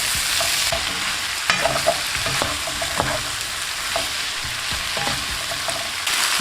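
Onions, peppers and pineapple fry in a pan for sweet and sour chicken as they are stirred: a steady close sizzle broken by light scraping clicks of the utensil, with no talking.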